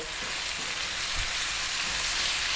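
Chopped tomato sizzling in a hot frying pan for a broccoli cream pasta sauce, a steady, close, hissing fry with a faint thump or two as it settles.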